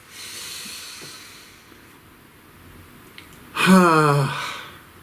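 After a quiet stretch with faint background hum, one long, close, breathy inhale sounds near the end, hissy and airy, alone without speech.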